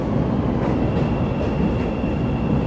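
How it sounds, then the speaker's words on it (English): A Chicago elevated train arrives at a Loop station, a loud steady rumble of wheels on the rails with a faint high whine above it and no voices. "comes the train coming into the station there."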